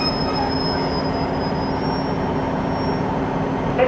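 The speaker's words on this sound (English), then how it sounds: "This train is for Barry Island." A train runs along the railway close by on a line toward Barry Island near Cardiff, Wales, with a loud steady rumble and high, sustained wheel squeal throughout.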